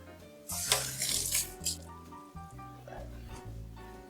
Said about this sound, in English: You cooks know you wash your hands over and over and over.